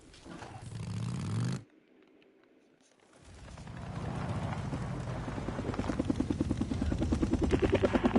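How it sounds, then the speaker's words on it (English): A helicopter in the video game Days Gone passes with a rhythmic rotor thumping that swells in after a brief quiet gap, growing louder and more pulsing toward the end. "There's a helicopter."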